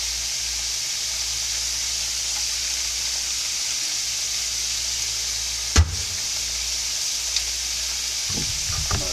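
Slivered onions sizzle in a frying pan, a steady loud hiss throughout, broken by a sharp clank near the middle and a few light knocks toward the end.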